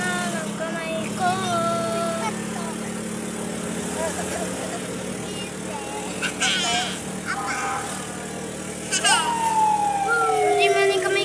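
An ambulance siren wails behind a moving car, rising and sweeping in the later part over steady road and engine noise, while people inside talk.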